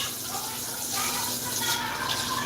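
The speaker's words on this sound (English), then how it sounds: "Then with the cold water, if you don't want your meat to get spoiled, I use cold water. Just rinse them off one time." Cold tap water runs steadily into a kitchen sink to rinse raw oxtails, a continuous close splashing gush for a few seconds.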